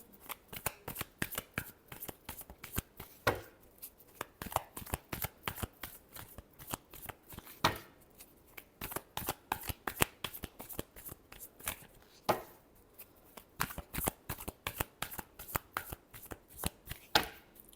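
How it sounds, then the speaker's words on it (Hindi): A deck of tarot cards is shuffled by hand: quick, close, crisp flicking and slapping in rapid bursts with short pauses, fairly quiet and with no talk. "Last shuffle."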